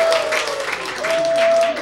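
An audience applauds to welcome someone onto a Korean stage, a steady wash of clapping heard under a sustained tone, with some talk mixed in.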